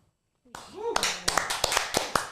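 Sharp hand claps ring out after a brief silence and a short rising vocal sound, roughly eight close, distinct smacks in an uneven rhythm.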